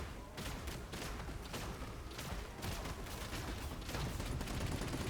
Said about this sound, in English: The ricocheting is insane.